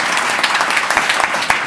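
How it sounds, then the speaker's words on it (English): A committee meeting audience applauds recognized groups, a brief burst of steady clapping from a modest crowd in a hall, with a few sharper individual claps standing out. "Big round of applause for those groups"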